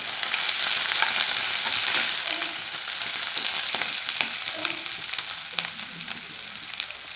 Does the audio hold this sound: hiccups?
no